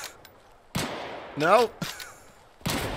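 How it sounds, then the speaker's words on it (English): Gunfire exchange in Deadside comes as three loud separate blasts spaced about a second apart, with a short spoken word between them. "Two fucking idiots just shooting at each other"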